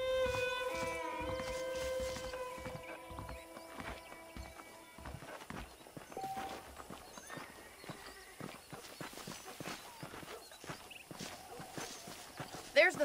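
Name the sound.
horse hooves clip-clopping in a video game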